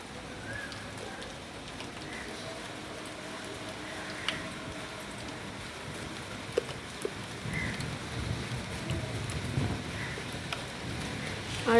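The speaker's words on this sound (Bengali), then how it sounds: "বৃষ্টি পড়ছে" Steady rain falling on a rooftop, a continuous even patter with a few sharper drips, moderately close and without voices.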